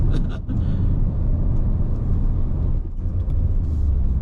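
A Peugeot 3008 engine in sport mode climbs toward Genting, a steady low rumble with a deep bass drone heard from inside the cabin, continuous and fairly loud.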